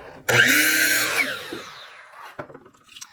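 A power saw set to a 22.5-degree bevel bites into 2x4 lumber with a loud, close whine and rasp that winds down over about a second, followed by a couple of light knocks of wood.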